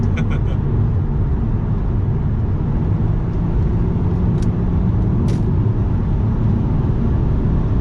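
An Audi TT Mk1 with a 3.2 V6 accelerates hard at full throttle, a loud dense engine roar heard from inside the low car that holds steady, with a couple of brief sharp noises near the end.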